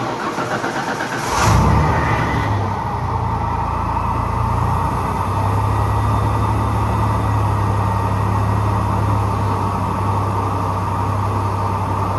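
A 1995 Ford F150 with the 4.9-liter inline six cranks briefly and fires, then settles into a steady, loud idle that runs on close by with no talking.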